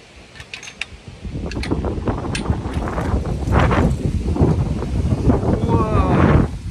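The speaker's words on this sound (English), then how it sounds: "This wind is awesome." Strong outdoor wind buffets the microphone with a steady, swelling roar that grows louder toward the end, with people exclaiming over it.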